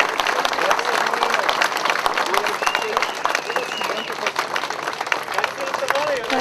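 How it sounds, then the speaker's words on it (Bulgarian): A crowd applauds the winners at the Trajan's Gate rally in 2011. Outdoor clapping runs steadily throughout, mixed with crowd noise and chatter. "Аплодисменти за тях."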